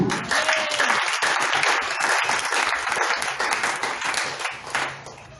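A church congregation breaks into sustained applause for Jesus, many hands clapping together in a dense, steady roar that fades slightly toward the end.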